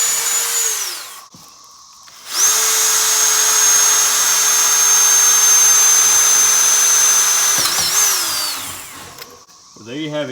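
A power drill whining at steady high speed while drilling out an Arctic Cat 400 ATV muffler, running in two loud close bursts that spin down at the end, with a short pause between them.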